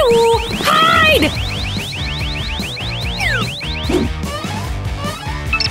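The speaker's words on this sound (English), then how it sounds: "Oh no! We've set off the alarm!" Cartoon alarm going off: a loud, rapidly repeating electronic siren sweep runs throughout, mixed with whooshing sound effects and a bouncy musical backing, with no voices.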